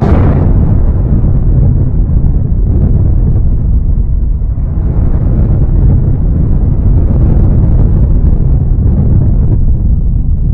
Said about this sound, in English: Oh, throwing a grenade.